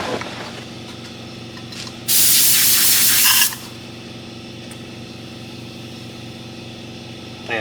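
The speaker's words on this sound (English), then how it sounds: "Yeah, I can hear the styrofoam sizzling." Styrofoam in a car headliner sizzles as it melts, heard as a steady low hiss and hum that swells into a loud, bright hissing burst lasting about a second and a half, then settles back.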